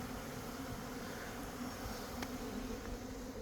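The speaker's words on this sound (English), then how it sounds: "That big bee. It too is a drone." Drone bees buzzing around a hive at an apiary, a steady close-up drone of wings with a few individual bees passing near, continuous and fairly soft with no talk.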